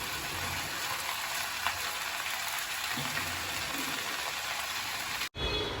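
Fish frying in a pan of hot oil, a steady, fairly quiet sizzle and crackle that continues unbroken, then stops abruptly near the end.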